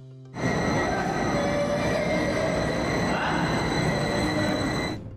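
A six-wagon cave train travels through an underground rock tunnel, its steady loud rumble and high wheel squeal filling the space continuously, with no voices.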